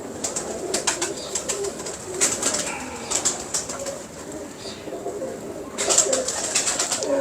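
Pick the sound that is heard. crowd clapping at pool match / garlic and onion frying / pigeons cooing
pigeons cooing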